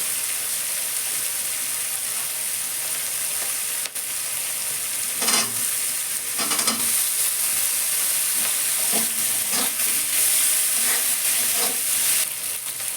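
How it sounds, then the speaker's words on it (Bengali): Onion, tomato and capsicum sizzle and fry in a pan for a fish and cauliflower curry, a constant close hiss with intermittent scraping stirs. "পেঁয়াজ কালি পেঁয়াজ টমেটো ক্যাপসিকাম ভাজা হয়ে গেছে"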